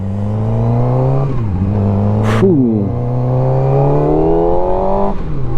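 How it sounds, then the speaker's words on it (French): A Brixton-style SRK421 RR motorcycle revs through its stock exhaust, a loud close engine drone that dips, climbs again and steadies, with a short sharp burst in the middle and a single spoken word. "L'échappement de série est excellent."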